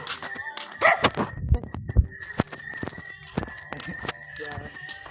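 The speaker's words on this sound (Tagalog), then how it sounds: "mabuti meron aso" A dog in a rural village barks several times and whimpers, with sharp close barks and yips scattered among soft whines and footsteps.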